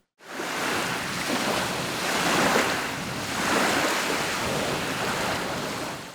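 Waves wash onto a flooded, eroding riverbank in Hradyzk, Poltava region, after a light storm, rolling in as two loud, rushing surges with steady wind noise and no voices.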